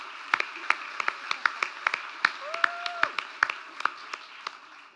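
Scattered, fairly sparse hand clapping from a small audience at a local community awards event honouring sports nominees such as a girls' surf-riding club, with a brief tonal whistle-like sound partway through.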